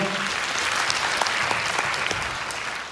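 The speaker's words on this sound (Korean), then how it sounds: "박수 한번 보내주시고요" Audience applause at a Yoo Byung-jae talk concert, a dense steady wash of many hands clapping that continues evenly and fairly loud for the whole stretch.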